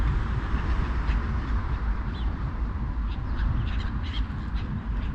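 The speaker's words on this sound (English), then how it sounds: "Here are a couple of gulls right here." Gulls call out in a park on a mild spring day, harsh squawking cries repeating over steady broadband noise, fairly close and moderately loud.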